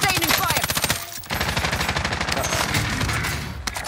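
Rapid automatic gunfire in the Call of Duty: Modern Warfare video game at Bootheel shipyard, dense continuous bursts of loud shots with a brief pause, layered over battle noise.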